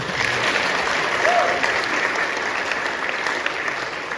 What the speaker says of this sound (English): let's clap for him anyway